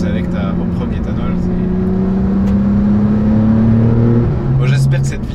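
Porsche 911 GTS 991.2 fitted with an ethanol engine remap, its engine rising and falling in pitch as it revs, loud and close, with a brief burst of higher-pitched noise near the end.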